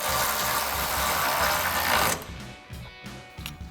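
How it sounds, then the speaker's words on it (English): A ratchet with a 10 mm socket tightens the lower front bolt on a 2016-2018 Silverado 1500 headlight, first a steady rapid whirring clicking run, then a few separate ratcheting clicks, close and without talk. "So our ratchet, socket, 10 and our bolt. Go ahead and tighten that down."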